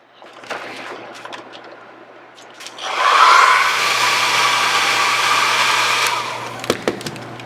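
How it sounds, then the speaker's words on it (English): A hair dryer blows on a layer of gel medium for a transfer, first running low with a few clicks and handling knocks, then surging to a loud steady whoosh for several seconds before easing off. "And then I'm going to go ahead and I'm going to blow dry that."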